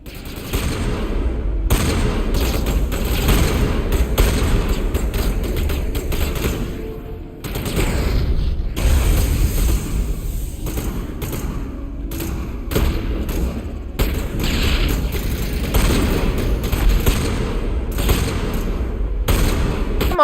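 Rapid shotgun blasts and gunfire in the video game Mass Effect, dense bursts with heavy thuds and booms repeating across a busy firefight, loud and close throughout.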